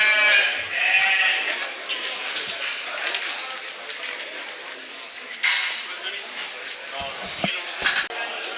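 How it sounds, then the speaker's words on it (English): Sheep and lambs bleating at a livestock mart in Tullow where prize-winning lambs are sold, a busy crowd murmuring and clattering throughout with voices talking over the animals. "Are they your sheep?"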